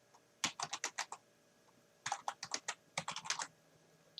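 Computer keyboard typing in three quick bursts of keystrokes with short pauses between, close and clear in a quiet room.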